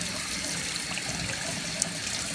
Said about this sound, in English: Let the water run clear.